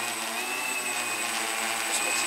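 An agricultural spraying multicopter drone hovers nearby, its rotors giving off a steady, loud, high-pitched buzzing whine that continues without a break.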